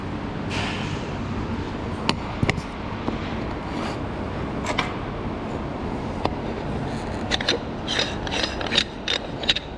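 A coarse-threaded billet aluminium lid being unscrewed from a 3.6-gallon fuel cell, with faint grinding and rubbing of the threads and a few sharp clicks and taps, close up with no talking.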